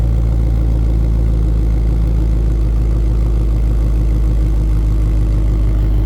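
A 2022 Ford Mustang Shelby GT500 engine idles steadily with a deep, rumbling low burble, constant and loud throughout with no talking.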